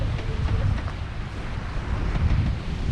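A sailboat runs under sail through the Raz de Sein with its engine in neutral, steady wind buffeting and rushing water around the hull, close and continuous, with no talking.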